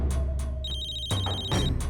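A telephone ringtone chimes in short repeated bursts, a bright electronic tone sounding over dramatic music as the call goes unanswered.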